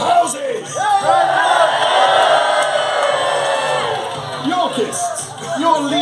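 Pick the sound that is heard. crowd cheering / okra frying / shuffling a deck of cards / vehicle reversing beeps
crowd cheering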